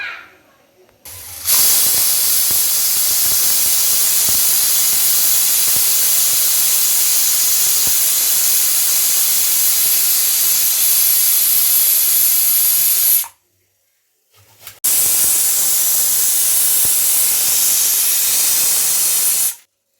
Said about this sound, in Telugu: ఆవిరి పోయేంత వరకు మనం మూత మాత్రం ఓపెన్ చేయొద్దు